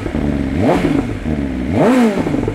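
The inline four-cylinder exhaust of a BMW S1000RR motorcycle, heard close, blips twice in quick rising and falling revs over a smooth, steady idle.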